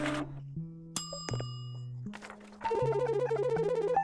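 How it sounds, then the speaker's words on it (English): Bell ringing inside the Animal Hospital video game, a series of bright, sustained dings and chimes that shift pitch, ending in a dense flurry of tones, loud and clear. "Stop ringing the bell, man."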